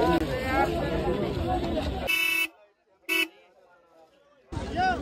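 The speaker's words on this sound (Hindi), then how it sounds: "यहाँ पर मिल रहे हैं भाई गाड़ियों के हॉर्न बुलेटों के" Two loud, bright blasts from aftermarket motorcycle horns for Royal Enfield Bullets sound up close at a Chor Bazaar market stall, a long one then a short one, after crowded chatter, with voices returning at the end.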